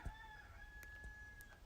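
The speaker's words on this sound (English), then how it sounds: "Another rooster." A rooster crows once in a long, thin, drawn-out call, faint and somewhat distant, over quiet background noise with a few soft clicks.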